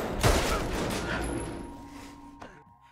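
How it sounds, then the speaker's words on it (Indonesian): A burst of gunfire opens the clip with a sharp loud crack, followed by a rolling echo and another shot near the end, fading into quiet. "Hingga mereka saling melesatkan tembakan."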